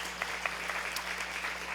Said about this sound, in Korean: 박수를 보내요